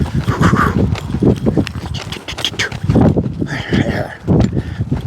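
A ridden horse's hooves clip-clop in an uneven rhythm, close and fairly loud, with snorting and other outdoor noise mixed in.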